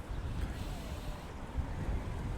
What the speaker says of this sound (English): this is going to test the mic here because it is starting to get windy here